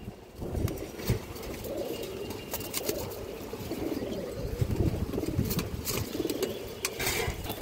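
Domestic female pigeons kept for sale coo steadily in a loft, a low, murmuring stream of overlapping coos close by with a few sharper rustles and clicks.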